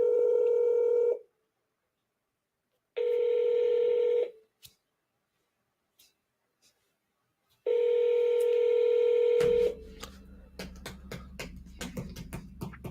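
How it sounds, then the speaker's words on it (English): Telephone touch-tone dialing during a call: three separate bursts of steady dial tones with silent gaps, then a rapid run of dialing clicks over a low hum near the end. "Let's see if we can get her on the phone."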